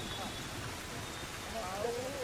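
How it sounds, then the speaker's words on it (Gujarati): Steady heavy rain patters in Ahmedabad across the whole stretch, a dense even hiss with no clear breaks, and faint tonal sounds drift through near the end. "લગભગ સાંજના સુમારેથી વરસાદ સતત ચાલુ છે"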